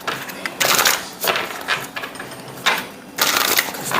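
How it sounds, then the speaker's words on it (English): A deck of tarot cards is shuffled by hand, producing several bursts of riffling, papery flutter separated by brief pauses, close and moderately loud with no talk. "Let me shuffle this some more"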